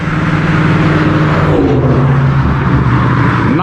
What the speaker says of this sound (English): That dude in that Camaro is doing 90 when he come over this bridge.